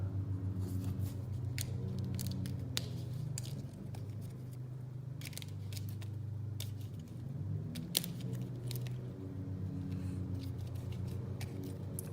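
Cards for a Lord of the Rings card game being shuffled by hand, with repeated crisp riffles and snaps over a steady low background hum, close and continuous.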